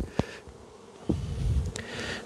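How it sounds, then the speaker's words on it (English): Honey bees buzzing as they are shaken from a hive frame while making up nucleus colonies, a close, swelling hum punctuated by a few sharp knocks and thuds. "There's lots of bees on this one, so we'll just do a light shake on that one."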